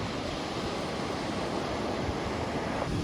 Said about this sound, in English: the waves are breaking